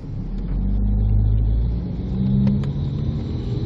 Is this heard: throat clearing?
no